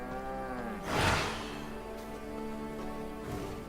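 Cows mooing in the video game V Rising, a loud drawn-out bellow near the start over a steady droning game soundscape, with fainter lowing calls following.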